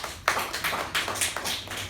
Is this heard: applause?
yes